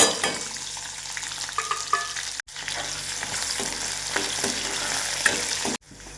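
Chili, garlic, peanuts and moong dal frying in two spoons of hot oil in a kadhai, a strong continuous sizzle with stirring and scraping, broken by two sudden brief cuts.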